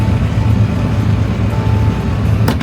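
Sailboat engine running steadily in forward gear during a slow docking maneuver, a continuous loud low rumble with a faint click near the end.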